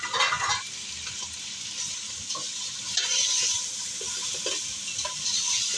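Beef frying in a pot with ground garam masala and whole cumin for beef pulao, a continuous dense sizzle with occasional stirring scrapes, no voices.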